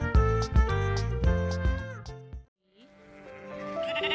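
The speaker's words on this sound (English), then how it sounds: "Here we go. Sheep." Sheep bleating in a cartoon-style farm animal scene, a few loud bleats over bouncy background music, then a short silence before the music resumes.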